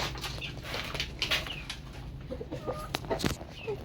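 Chickens cluck in short, scattered calls over a constant low background rumble, with a few sharper bursts near the end.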